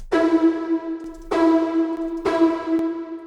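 A bright, buzzy Serum synth chord with heavily detuned oscillators and a low-pass filter envelope hits three times, each note opening bright and quickly darkening as it decays, with a thick, wide, slightly wavering tone.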